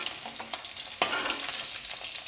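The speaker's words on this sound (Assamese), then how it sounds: "মাছ ভাজা হৈ গৈছে একদম কাঢ়াকৈ নাভাজোঁ অলপ অলপ ভাজি লৈছোঁ" Singhi fish fries in hot oil with a continuous close crackling sizzle, broken by one sharp clink of a utensil partway through; no voices.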